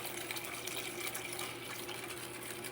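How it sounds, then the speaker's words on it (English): Two cups of water pour steadily into a haupia pie slurry mix, a continuous close splashing and trickling flow with no talk. "we'll put our 2 cups of water in and we'll start mixing our slurry"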